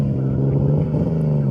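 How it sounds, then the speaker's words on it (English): Turbocharged BMW E36 drift car engine running rich, a steady low droning idle with a strong constant hum and rough burbling texture throughout, loud and close, no talk. "It's running really, really rich right now."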